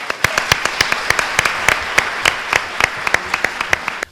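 Lecture audience at a bilingual talk on Red Hugh O'Donnell giving a round of applause to welcome the speaker, crisp individual claps close by over a steady clapping wash, lasting several seconds before fading out.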